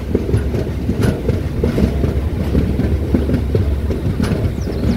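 A passenger train arriving at Nandalur station, platform 1, on its first stop: a steady, loud low rumble of rolling wagons with clickety-clack wheel beats and brief squeals, continuous throughout, no talking.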